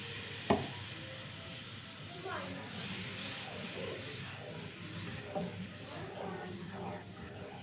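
Halva with grape syrup, rosewater and cardamom is stirred in a pan, a soft continuous scraping and sizzling hiss with a sharp tap near the start, heard close and fairly quiet under faint speech.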